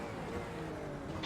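LMP2 prototype race cars in an IMSA Le Mans racing game rush past with a steady engine drone and rising whine, fairly close and continuous, with no talk.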